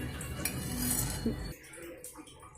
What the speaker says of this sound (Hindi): उबाल आने के बाद ही आप राइस डाल दें इसमें एंड अच्छे से मिक्स कर दें